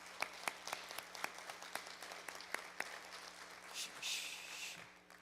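Applause from an audience at an annual church meeting: a steady crowd of scattered hand claps, fairly distant and moderate in volume, continuing throughout.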